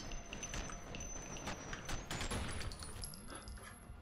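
Rapid automatic gunfire from the shooter game F.E.A.R., a dense run of closely spaced shots with metallic clinks over a steady electronic tone, moderately loud throughout.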